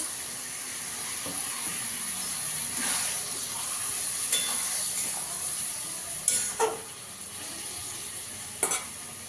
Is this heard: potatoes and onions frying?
yes